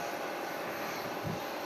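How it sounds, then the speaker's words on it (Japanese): ANA passenger jet engines running as the plane pushes back at Miyakojima Airport before takeoff, a steady broadband roar heard from inside or nearby, with a brief low thump near the end. "ちょうど後ろに下がって、これから離陸ですね。"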